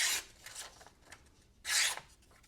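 A small custom flat-ground fixed-blade knife slices through material in two crisp, close rasping strokes separated by lighter scraping, in a quiet room.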